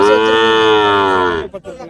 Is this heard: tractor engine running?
no